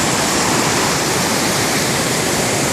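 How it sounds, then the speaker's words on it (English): A river swollen by overnight rain along the Pacific Crest Trail near Jefferson Park and Mount Jefferson roars in a loud, continuous rush of water, close and unbroken. "Raging river from the rain last night."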